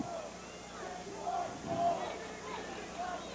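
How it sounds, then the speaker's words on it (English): A crowd at a 2002 high-school basketball game between Mt Vernon and Carbondale roars and cheers in a sustained, distant wash of noise, swelling in the middle and again near the end. "Yeah, the crowd goes nuts."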